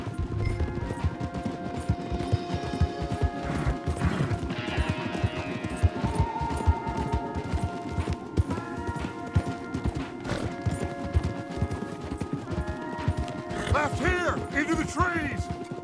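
Horses clip-clopping at a gallop in Red Dead Redemption 2, steady hoofbeats running beneath continuous game music and ambience, with speech present throughout.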